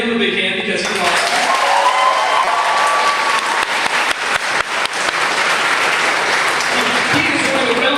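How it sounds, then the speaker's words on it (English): A convention crowd at a 2012 Kami-Con panel gives a guest a big hand, loud sustained applause with a voice speaking over it at the start and some sharp, nearby claps. "Give him a big hand because he's awesome."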